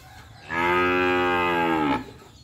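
A large mother cow at a cattle farm in Ba Tri gives one loud, close, sustained moo lasting over a second, heard on its own against quiet farm background.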